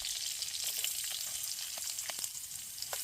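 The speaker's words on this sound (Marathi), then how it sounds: "आपले घरगुती मसाले टाकून झालेले आहेत आणि आता त्याला थोडंसं आपण हलवून घेऊ" Homemade spices being stirred in a camping pan outdoors, a faint continuous hiss of frying with light scattered taps and scrapes from the spoon, close and low in level.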